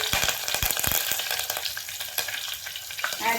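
Curry leaves and chillies sizzle loudly in hot oil in a clay pot, with crackling pops and spatters and a sharp hiss throughout, close by.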